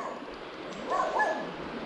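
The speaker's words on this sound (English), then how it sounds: "And of course I'm going to get mauled by dogs." A dog gives a short yip or whimper near a river while someone fishes for brown trout. It is a single brief sound that rises in the middle and stands out against a low outdoor background.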